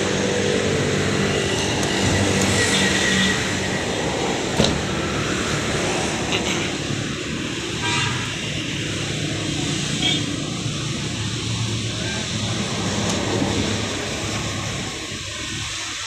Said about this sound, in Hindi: अब मैं आपको गाड़ी का इंजन चेक कराता हूँ।